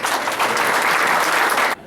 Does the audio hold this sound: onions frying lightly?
no